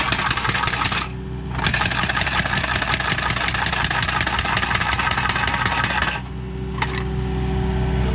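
Steady mechanical drone of hydraulic machinery on an old ski lift, loud and continuous with a knocking engine-like texture, briefly dipping twice, with no talking.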